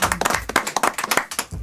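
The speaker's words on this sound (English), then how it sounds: "Let's clap it up" A small group of people claps briefly in a close, quiet room, with quick uneven hand claps lasting a moment and then stopping.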